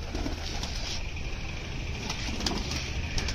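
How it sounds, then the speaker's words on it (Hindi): Pigeons released from a cage give soft coos over a steady background hiss, with faint fluttering at moments and no voices. "अपने कबूतर निकल रहे हैं"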